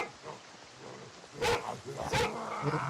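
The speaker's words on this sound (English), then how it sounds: "you're barking too loud" A dog in a video game gives two sharp barks close by, with soft whimpering and snuffling sounds between them.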